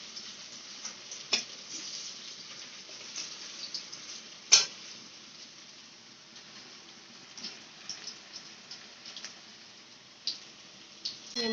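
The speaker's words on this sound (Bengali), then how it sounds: "এরকমভাবেই সমস্ত সমস্ত বড়া লাল লাল করে ভেজে নিতে হবে" Raw banana kofta fritters deep fry in oil, a soft continuous bubbling sizzle with a few faint ticks and clinks from stirring, quiet and steady throughout.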